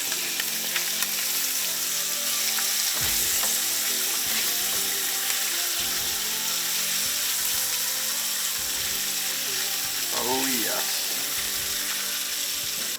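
Hogfish fillets fry in a hot pan, giving a steady bright sizzle throughout, with a few stirring or scraping touches and brief moments of talk.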